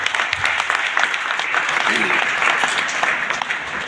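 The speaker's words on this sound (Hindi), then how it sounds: "मैं चाहूंगा एक जोरदार तालियां होना चाहिए सबके लिए" Enthusiastic audience applause at a speech event, dense, steady clapping filling the room, close and loud with no talk over it.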